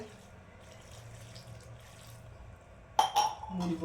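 After a few seconds of quiet kitchen background, water splashes into a pot of bottle gourd and lentil kootu, with a couple of light metallic clinks.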